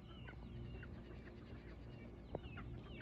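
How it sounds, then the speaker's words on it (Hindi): Chickens on a farm in California in the evening give soft scattered clucks and murmurs over a low steady background hum, fairly faint and near, with one brief louder squawk. "और इस वक्त शाम का टाइम है और ये मुर्गी हैं"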